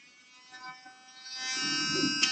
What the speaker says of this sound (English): That one needs dremeling out again.